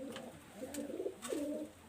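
Nepali pigeons coo at close range in a quiet space, giving two or three soft, drawn-out rolling coos with short pauses between them.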